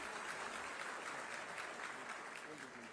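Audience applause at a government ceremony, faint steady clapping from a crowd sustained evenly for a few seconds, with a voice lightly present underneath.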